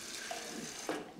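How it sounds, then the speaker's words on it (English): Water runs from a household kitchen tap in a steady, fairly soft hiss, with a brief louder splash near the end and no talking. "Most of the time, we drink water, we come right here to the tap."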